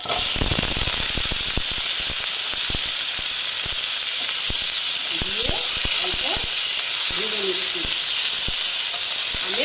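Raw mango pieces go into a hot pan for a sweet chutney, setting off a loud, continuous hiss and sizzle peppered with sharp crackling pops, while a voice speaks briefly over it.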